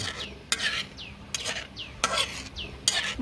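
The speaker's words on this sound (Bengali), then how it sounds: "এখন আমি একটু নেড়ে চেড়ে নিব।" A pot of pangas fish and raw mango curry is stirred in four even, rhythmic spoon scrapes against the metal over a faint simmer, close and fairly quiet, with no talking.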